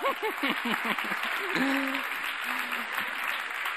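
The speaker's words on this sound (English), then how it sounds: "I think we should give Haniel a round of applause for getting through that." A church audience claps and cheers, with a few whoops and voices mixed into the applause, moderately loud and continuous.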